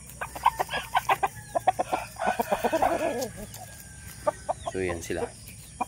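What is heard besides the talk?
Dong Tao and Shamo cross chickens clucking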